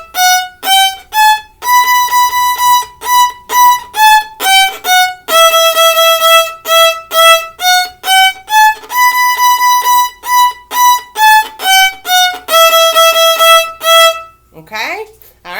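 Bowed string instrument plays a blue finger pattern exercise with a low second finger, a long series of evenly paced notes in repeated rhythmic groups, close and loud, ending with a brief spoken word.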